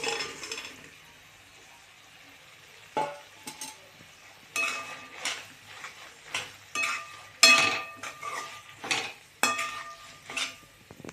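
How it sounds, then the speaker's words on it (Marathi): Soybeans being mixed into soybean chilli in a pan over a low flame, heard as intermittent bursts of spoon scraping and clinking against the pan with short pauses between strokes, close and fairly quiet. "यात आपण आता सोयाबीन मिक्स करून घेऊ."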